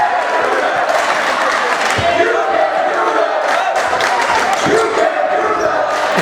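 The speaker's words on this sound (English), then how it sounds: "Love that cheer." Basketball crowd at a Cape Cod Academy game lets out a sustained cheer that fills the gym, loud and dense, with bouncing balls and scattered voices mixed underneath.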